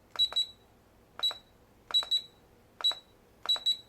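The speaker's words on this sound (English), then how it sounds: "it just makes this one beep over and over and over again" Sharp electronic beeps from a Cheerson Flying Egg drone's remote controller come in quick pairs and singles, two beeps meaning high rates, repeating every second or so against a quiet background.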